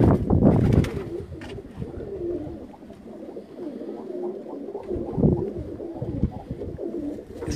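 Soft, repeated cooing of a pigeon kept by a fancier, a steady low throaty murmur running through the whole stretch with no talk over it.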